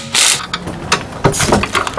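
A torque wrench tightens the wheel nuts on a Hyundai Elantra after a rear brake job, giving close, loud ratcheting clicks and metallic grinding in short bursts.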